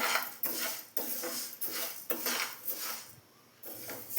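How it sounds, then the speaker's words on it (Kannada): Moong dal being dry-fried in a pan for payasa, with a utensil scraping and clinking against the pan in a steady rhythm of strokes about every half second, close and clear. "ಮೊದಲು ಒಂದು ಪ್ಯಾನ್ಗೆ ಹೆಸರುಬೇಳೆ ಹಾಕಿ 3 ನಿಮಿಷ ಫ್ರೈ ಮಾಡ್ಕೊಳ್ಳಿ"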